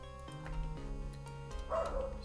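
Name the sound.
dog barking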